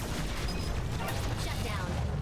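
Dense, continuous rapid gunfire and explosive bursts from the twin-stick shooter game Assault Android Cactus, a steady roar of shots filling the whole stretch.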